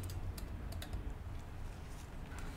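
Repeated key presses on a Lenovo IdeaPad Y560p laptop keyboard while tapping F2 at startup: a quick series of sharp, close plastic clicks over a low steady hum.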